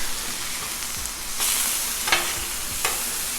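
Chicken sizzling on a Blackstone flat-top griddle, a continuous close hiss of frying meat with a few sharper flare-ups and spatula scrapes.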